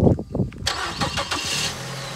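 An old pickup truck engine with a Cummins diesel, boosted by a jump starter, cranks briefly and then fires up into a loud, rough, steady idle close by.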